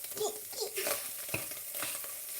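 Chanterelle mushrooms sauté in a pan with a soft, steady sizzle. A few light scrapes of stirring come through close up, and no one speaks.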